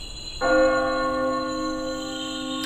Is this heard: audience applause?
no